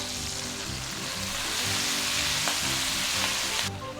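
Escarole hits a pan of hot oil that had garlic cooking in it, producing a loud, steady, close crackling sizzle that holds for several seconds.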